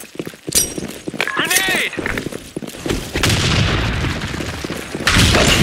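A grenade blast booms in the online shooter Blackshot, a heavy rumbling burst that swells and lingers amid game effects and shouting voices.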